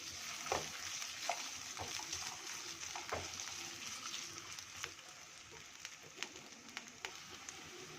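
Potato pieces frying in a couple of spoons of oil in a pan, a steady close sizzle and crackle with occasional sharper pops, continuous throughout with no talking.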